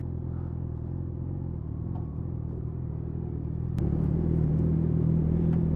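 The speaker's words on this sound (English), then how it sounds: "An insane amount of traffic." Heavy road traffic rolls past a rider on a 600cc motorcycle as a constant loud low rumble and engine drone, growing slightly heavier partway through, with no voices.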